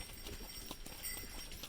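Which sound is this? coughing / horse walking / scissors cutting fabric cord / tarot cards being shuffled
horse walking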